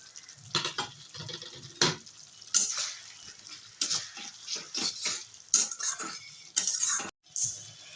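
Fried potatoes and cauliflower stems tumble into a hot pan of fish curry base, giving repeated bursts of frying crackle and stirring scrapes, close and moderately loud, with no talk.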